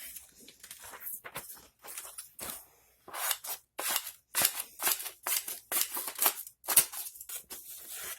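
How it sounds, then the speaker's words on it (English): Freshly sharpened scissors snipping paper, a series of crisp, close cuts in irregular bursts, quieter at first and then more rapid and busier, with brief pauses between strokes. "And of course, it'll cut paper just fine as well."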